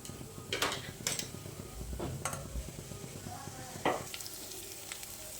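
Curry leaves sauté in oil with a soft, quiet sizzle, broken by several sharp clinks and scrapes of a utensil against the pan.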